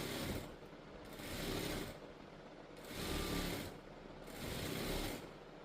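A sewing machine stitching a blouse runs in three steady pulsing bursts with short pauses between them, close and fairly loud, with no talk.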